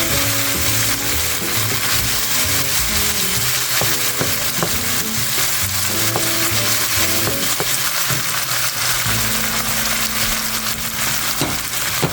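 Tender beef strips for broccoli beef sizzle loudly and steadily in a hot pan, a dense continuous crackle with stirring scrapes and no talking.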